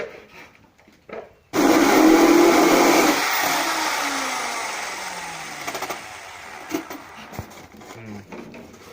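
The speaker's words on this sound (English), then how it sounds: "and then you start drilling" A power drill spins up abruptly and bores into wood for a hydroponic raft, a loud whirring grind that slowly winds down, with a voice speaking briefly around it.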